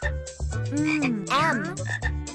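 A cartoon frog in an alphabet frog-feeder learning game gives a loud, close, warbling croak that rises and falls across a couple of seconds, with no talking over it.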